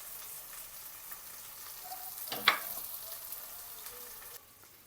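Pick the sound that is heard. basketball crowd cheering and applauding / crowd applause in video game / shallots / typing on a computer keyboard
shallots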